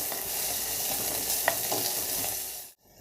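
Onion and green chillies frying in a mud pot for kovakkai curry give a steady, close sizzle with a soft stir partway through, then the sound cuts off abruptly near the end.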